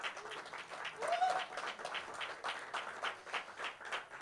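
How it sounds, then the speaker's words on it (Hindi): Scattered clapping from a poetry event audience in Bengaluru, fairly faint and distant, with a few voices mixed in. "तालियां बजा दीजिए अच्छे से"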